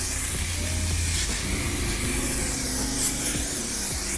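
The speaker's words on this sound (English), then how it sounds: "So I'm gonna spray some of that." Hair spray hisses out of an aerosol can as a steady, loud, close spray that runs unbroken for several seconds, with no voice over it.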